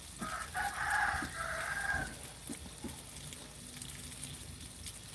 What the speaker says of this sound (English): There are definitely roosters in the background and a lot of chickens.